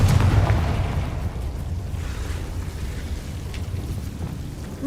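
A Confringo blasting spell in the video game Hogwarts Legacy sets off a loud explosive boom at the start, fading into a rumbling, crackling tail of debris with faint pops scattered through.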